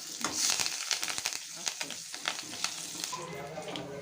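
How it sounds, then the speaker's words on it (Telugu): Mustard seeds and curry leaves crackle and splutter in hot oil while tempering pepper rasam with dried red chillies and crushed garlic. Close, dense popping bursts ride over a steady sizzle, with no one speaking. "ఆవాలు చిట్పట్లాడింది ఇప్పుడు కరివేపాకు వేసేసామండి"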